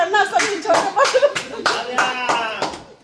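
An audience claps in a quick, uneven rhythm of sharp hand claps, loud and close, with a voice carrying over them.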